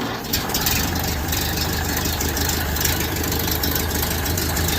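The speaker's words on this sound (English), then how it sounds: "Engine's still warm, so it should probably start right up." A warm Model A Ford pickup engine, leaking a little fuel, idles steadily with a low, even rumble and faint knocking, close by and continuous throughout.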